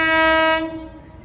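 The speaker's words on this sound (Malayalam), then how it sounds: "ഇതാ ട്രെയിൻ വന്നു കഴിഞ്ഞു." Train pulling into a station near Ernakulam, a loud single blast of its horn that cuts off and fades within about a second.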